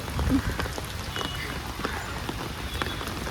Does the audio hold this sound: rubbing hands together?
no